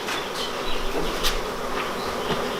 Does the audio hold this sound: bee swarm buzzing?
yes